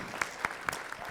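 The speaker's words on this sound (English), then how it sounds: "Give her a round of applause." Brief audience applause at a school board workshop for an elementary school Teacher of the Year, sounding as a handful of sharp, distinct claps over a soft crowd wash, fairly quiet and short.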